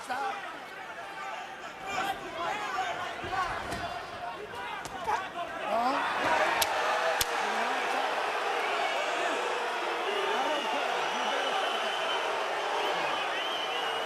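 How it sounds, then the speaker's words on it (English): Boxing arena crowd at Robert Guerrero vs Andre Berto reacting to a warning for Berto, a dense sustained roar of boos and chatter that swells louder midway and holds steady, with scattered sharp noises. "Crowd booing because many of the spectators probably don't understand exactly what the warning is for."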